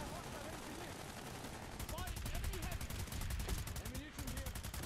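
Rapid bursts of automatic gunfire from the sci-fi shooter Planetside 2 chatter steadily through the scene, fairly quiet and mixed under players' voice chat.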